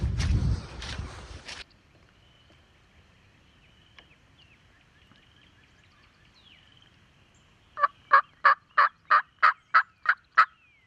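A wild turkey gobbler in Missouri during the late spring season gobbles in a quick, loud series of about nine pulses near the end, after a burst of close rustling noise and a long quiet stretch.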